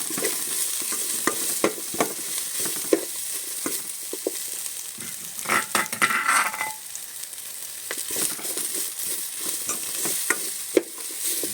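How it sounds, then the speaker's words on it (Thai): Whole spices stir-fried in a pan until golden for a Thai soup, with steady close sizzling and repeated scraping strokes of a spatula, plus a brief louder burst of frying midway; no talking. "ก็ผัดไปให้เหลืองนะฮะ เครื่องเทศออกแล้วก็ถึงจะใส่น้ำครับ"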